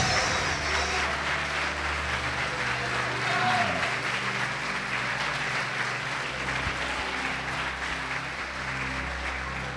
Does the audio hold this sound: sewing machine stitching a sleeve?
no